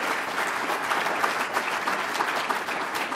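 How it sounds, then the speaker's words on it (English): Steady, dense applause from a large audience at a labor union event, a continuous wash of clapping hands that holds at an even level throughout with no talking over it. "Give him a round of applause for what he does every single day."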